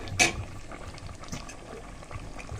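Khichuri simmers in a pot, giving soft, close bubbling and gentle liquid burbles with one sharper pop near the start.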